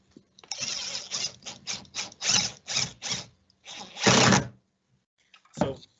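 A power drill drives screws into a substrate being prepared for tile, several short whirring bursts with pauses between them, close and clear, then one longer run and a final short burst.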